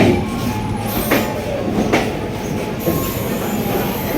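A train pulls into a station with steady rumbling, wheel squeal and clattering rail noise, loud and close throughout, with no talking.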